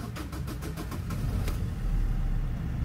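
A Citroen Nemo diesel engine cranks and catches with a quick run of rhythmic starter pulses, then settles into a steady, close low idle that continues to the end.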